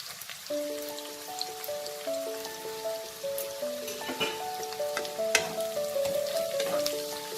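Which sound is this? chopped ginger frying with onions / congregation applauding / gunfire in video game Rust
chopped ginger frying with onions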